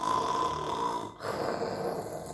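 A voice reading a bedtime story imitates a snore with a drawn-out, rasping nasal rumble, a brief catch, then another sustained snoring breath, heard close and fairly loud.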